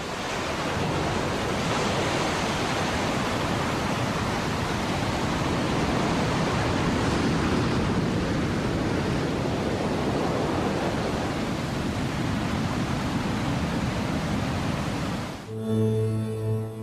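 A continuous roar of rushing Nile floodwater fills the scene, broad and loud like a torrent, steady throughout before music cuts in at the very end.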